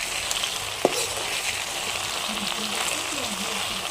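Eggplant pieces fry with turmeric and salt in a pan on a wood stove, giving a steady, dense sizzle throughout, with a single sharp clink of a utensil early on.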